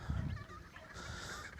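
Geese honking in the outback bush, a run of loud nasal honks close by over a steady hiss of wind and insects.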